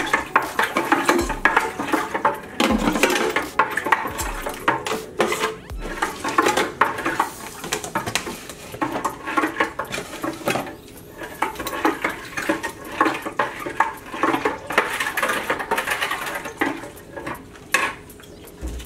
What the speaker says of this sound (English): stir until you think it's kind of dissolved